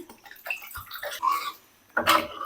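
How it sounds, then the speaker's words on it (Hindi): Water poured from glasses into a pot of chicken nihari, heard as two short splashing bursts, the second louder, separated by a brief lull, with faint sounds in the kitchen around them. "मैं तकरीबन इसमें 6 गिलास पानी शामिल करूंगी"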